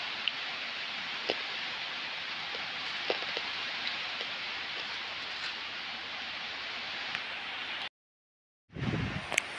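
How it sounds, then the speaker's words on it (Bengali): Steady outdoor rain falls for about eight seconds as an even hiss with occasional drip ticks, then breaks off in a short gap before the rain noise briefly returns with a low thump. "এখনও বাইরে বৃষ্টি হইতেছে, অনেকক্ষণ হয়ে গেছে বৃষ্টি"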